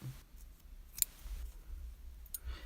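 Scissors cut a strand of regular yarn for a crochet project, giving one crisp snip in a quiet room, followed by a fainter second click.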